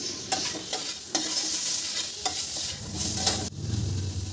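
Tomato and salt being stirred and fried in a pan: a steady close sizzle broken by sharp scraping strokes of the spoon, several distinct stirs across the stretch, with no voices.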